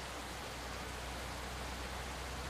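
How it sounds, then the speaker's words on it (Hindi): Stormy rain in the Bus Simulator Indonesia video game, a steady dense hiss of downpour that holds at an even level throughout with no voices. "तूफानी बारिश आ रही है"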